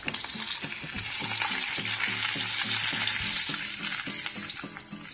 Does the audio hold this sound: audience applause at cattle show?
no